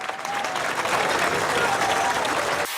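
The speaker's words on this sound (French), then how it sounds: "15h, le convoi funéraire est accueilli par des acclamations." A crowd applauds and cheers as a funeral convoy arrives, a thick, continuous wash of clapping and crowd noise that holds steady for nearly three seconds before cutting off abruptly.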